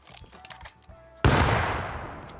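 A grenade blows up in the survival game Rust, one sudden loud blast that slowly fades into a long rumbling tail after a stretch of quieter game sounds.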